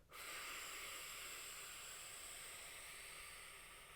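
A slow, steady exhalation on a breath sound during a singing warm-up, a soft continuous hiss that holds evenly for several seconds and fades slightly toward the end, with no voicing.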